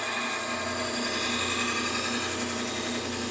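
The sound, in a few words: belt grinder with Trizact A30 belt sharpening a knife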